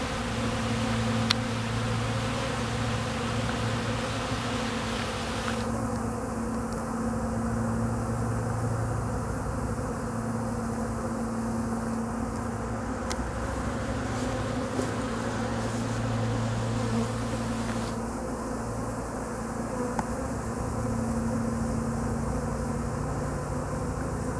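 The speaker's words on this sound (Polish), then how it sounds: "Także w miarę zostały zagospodarowane te pszczoły rojowe." A swarm of honeybees produces a continuous, dense buzz that holds steady throughout, with faint background hum and no voices.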